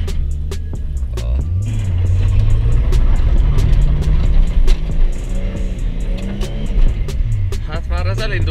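Nissan S14 with a 450+ hp RB25 engine pulling away from a stop, its engine revving and rising in pitch under someone talking in Hungarian.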